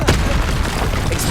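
Confringo spell blast in the Hogwarts Legacy video game, a loud, dense booming explosion with sustained rumble filling the whole moment.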